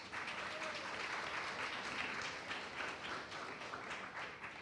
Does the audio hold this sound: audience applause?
yes